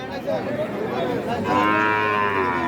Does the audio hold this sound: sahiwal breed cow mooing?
yes